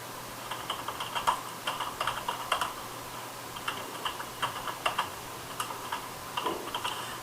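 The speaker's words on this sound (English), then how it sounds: "now I'll type the function" Computer keyboard typing while code is entered, quick irregular bursts of light clicky keystrokes with brief pauses between runs, close and fairly quiet, no voices.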